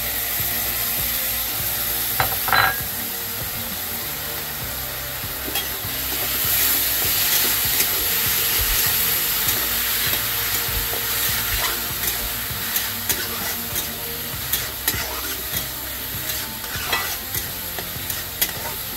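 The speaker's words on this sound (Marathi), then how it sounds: "आता तो कांदा भाजत असतानाच आपण ही जी सुकट धुवून घेतलेली आहे ती पण त्या कांद्यामध्ये परतून घ्यायची" Chopped onion and washed dried shrimp sauté in hot oil in a pan, a steady close sizzle with occasional scraping stirs and clicks of a spoon against the pan, no voices.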